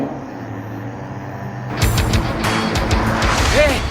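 Rotary-engine cars arrive on a mountain road in an anime racing scene, a rising engine roar that swells midway and stays loud, with a brief tire screech near the end.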